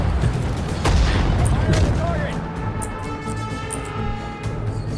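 Continuous gunfire from a Sudden Strike 4 battle, a dense wash of distant shots and blasts, busy at first and then thinning into steadier background fire.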